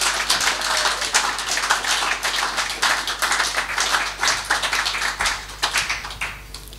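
An audience at a Dutch poetry slam claps loudly and continuously, a dense, even patter of many hands with no voices over it.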